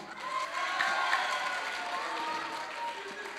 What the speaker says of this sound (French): Et maintenant, veuillez applaudir avec moi la deuxième science physique A.